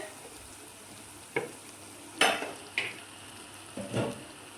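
A spoon stirs Kashmiri chili powder into onions frying in oil, with a soft steady sizzle underneath and several distinct scraping clinks of utensil against the pan, close and without talk.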